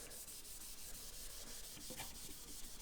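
A soft cloth rubs polish onto the body of a Stratocaster during assembly, giving a steady, close, continuous hiss of friction with no talk.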